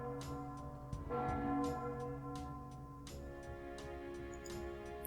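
A bell rings loudly as a storybook sound effect, sustained metallic tones that hang and shift in pitch after fresh strikes, fairly quiet overall and heard alone.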